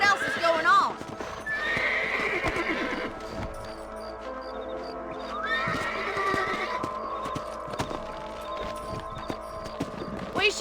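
Horses in the Red Dead Redemption video game whinny loudly near the start and again midway, with steady hoof clip-clop running throughout; a voice talks over parts of it.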